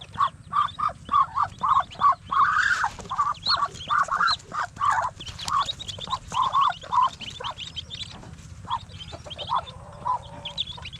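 A group of ducks quack close by in rapid, overlapping bursts, some calls louder and drawn out, continuing throughout.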